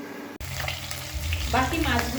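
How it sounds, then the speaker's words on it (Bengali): Pieces of rohu fish fry in hot oil with a dense, close sizzle, broken by a brief gap and clinking stirring noises, the frying swelling louder toward the end. "বাকি মাছগুলো হালকা লাল করে ভেজে নেব।"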